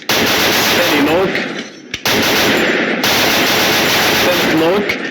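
Dense, continuous automatic gunfire from a weapon in a shooter video game, loud and harsh with brief pauses, forming a nearly unbroken roar throughout.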